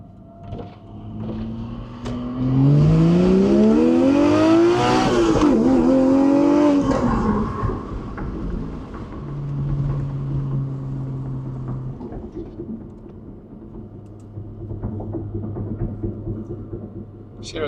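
A Porsche 718 Cayman GTS 4.0 with aftermarket exhaust and headers accelerates hard, its engine note climbing loud and close before dropping back to a steadier, quieter drone.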